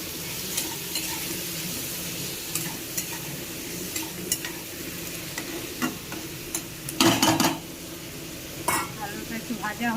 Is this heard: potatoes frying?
yes